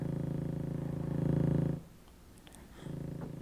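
Granular synth patch built in Reason's NN-XT sampler, a buzzing, pulsing sustained tone that cuts out briefly to a faint grainy crackle before resuming, moderately quiet with no voices.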